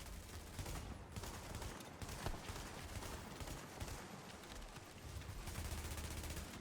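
Rapid shotgun and automatic gunfire crackle in a multiplayer shooter game, a dense, continuous barrage of shots heard at a fairly quiet level with no clear talking.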